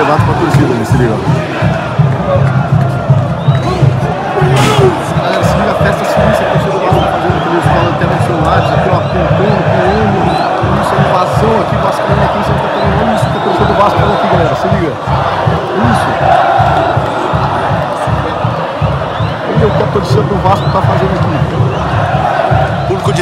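Vasco football fans cheering and chanting together in a packed stadium in Itajaí, Santa Catarina, a dense, loud, continuous roar of rhythmic crowd chant that stays steady throughout.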